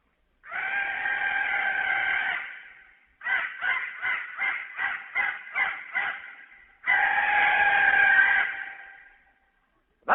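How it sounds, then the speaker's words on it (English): Comedy record effect billed as an aardvark mating call: a harsh, honking caw held for two seconds, then a rapid string of about eight short squawks, then another long raucous blare, loud and alone. "That was the mating call of the aardvark."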